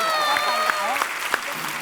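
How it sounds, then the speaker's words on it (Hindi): Studio audience clapping on a Hindi television comedy show, a brief burst of applause under a voice and tonal background sound, moderately loud and close. "जोरदार ताली हो जाए विद्या जी की"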